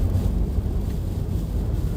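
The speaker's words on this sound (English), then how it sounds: "We're getting hit with a gust right here." Strong wind gusts buffet the microphone during a dust storm in Southern California, a continuous low roaring rumble that holds steady and loud throughout.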